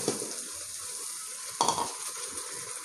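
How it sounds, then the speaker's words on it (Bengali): Ginger-garlic paste frying in a pan for mutton keema, giving a steady soft sizzle with a brief louder burst of stirring partway through. "আদা রসুন বাটা দিয়ে আমি কিছুক্ষণ ভেজে নেবো, যাতে কাঁচা গন্ধটা না বেরোয়।"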